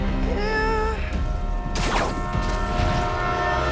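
Runaway train in Marvel's Spider-Man 2, a loud rumbling rail roar with a sustained tonal horn-like wail early on and a sharp screeching sweep midway.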